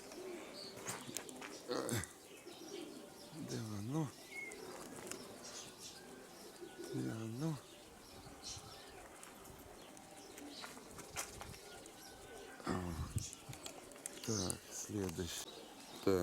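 Pigeons coo in repeated low warbling bursts, several calls spaced across the stretch, with someone talking intermittently and some wing flaps and outdoor noise.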